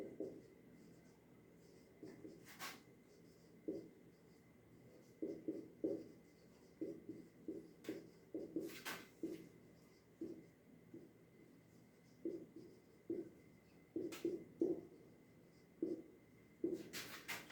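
Chalk or marker writing on a classroom board, short scratchy strokes in irregular bursts, fairly quiet and set against a teacher's speech in Hindi with faint room echo.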